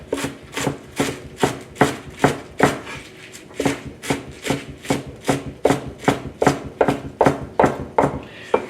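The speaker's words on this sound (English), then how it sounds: "Now we're going to chop it up. So crispy. Can you hear it?" A knife chops steadily through crisp Chinese gai lan on a board, about two sharp crunchy cuts per second, close and clear.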